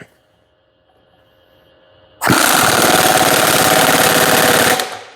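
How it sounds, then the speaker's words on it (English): Three-quarter-inch drive impact wrench with a 1 5/16 socket running a piston nut tight on a grapple hydraulic cylinder, a sudden loud rapid hammering burst lasting under three seconds after near silence. "Then we'll take our 1 5/16 socket back on our 3/4 inch drive impact, and we'll run it tight."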